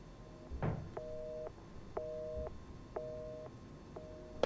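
A telephone in Resident Evil 7 sounds a repeating two-tone busy signal, four evenly spaced beeps about a second apart, clear over a quiet, murky in-game ambience with a soft thump near the start.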